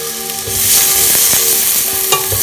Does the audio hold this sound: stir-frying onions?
yes